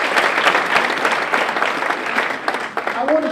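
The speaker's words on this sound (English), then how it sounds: "give them a round of applause" An auditorium audience applauds a team at a motivational talk, a dense, steady wash of clapping close by with a voice briefly over it.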